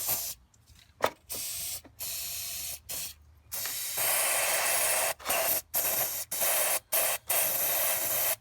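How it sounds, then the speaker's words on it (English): Aerosol can of starting fluid sprayed into a car engine in a series of short, sharp hissing bursts, quiet gaps between them, the later bursts longer and steadier, close up. "I'm going to go ahead and spray some starting fluid in there."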